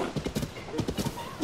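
Galloping horse hooves from Zelda: Tears of the Kingdom pound in a quick, rhythmic clip-clop, loud and close, continuing steadily through a short burst with no talk.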